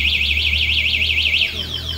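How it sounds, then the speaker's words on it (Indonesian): A loud anti-theft alarm on a Uwinfly T3 S electric scooter warbles rapidly in a rising and falling siren pattern for about a second and a half, then cuts off abruptly. "Yang satunya lagi gembok tertutup buat alarm."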